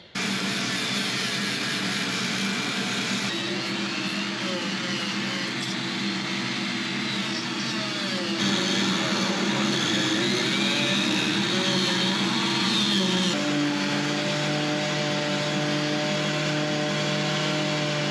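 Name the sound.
Dremel and dual action sander sanding boat fiberglass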